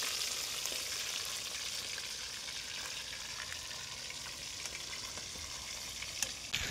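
Pomfret fish fries in oil in a village kitchen wok, the oil not yet fully hot, and the fish sticks to the pan. A steady, close sizzle runs throughout, with no talk and a brief clatter at the end.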